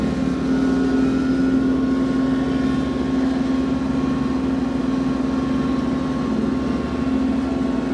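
An Iseki TLE3400 compact tractor pulls a Fleming finishing mower across grass, producing a constant, close engine hum with a steady tonal whine and no breaks.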